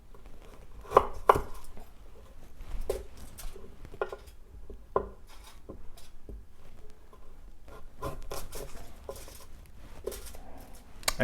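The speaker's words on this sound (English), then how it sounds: "cut the carrot in half, and in half again" A knife chopping a carrot on a cutting board, with irregular crisp taps, a couple of louder knocks early on and quieter cuts throughout at close range.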